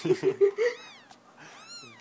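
A blind kitten with a missing eye gives several short, high meows in quick succession, followed by a couple of longer, wavering cries, close by.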